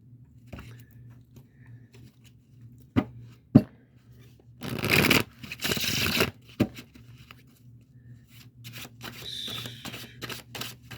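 A deck of cards is shuffled close by, with a few sharp taps and clicks leading into two dense riffling bursts, followed by softer scattered card handling in a quiet room.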